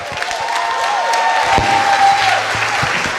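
A crowd applauds an honourable member at a political gathering hosted by Ruto, producing loud, dense, steady clapping with some cheering over a whistling tone.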